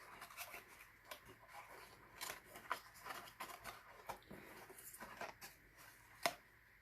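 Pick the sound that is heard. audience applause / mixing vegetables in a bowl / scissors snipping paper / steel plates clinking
scissors snipping paper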